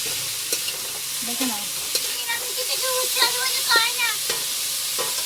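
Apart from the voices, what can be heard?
frying bitter gourd and potatoes in a pan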